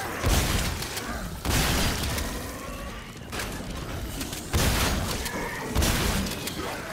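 Repeated bursts of heavy gunfire at monsters in The Callisto Protocol, loud volleys that come and go in waves with impact crashes and a faint voice under them.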